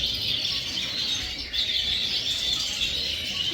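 Birds in an aviary holding brown pastel and normal varieties call continuously, a dense, steady chatter of chirps and tweets filling the air with no voices.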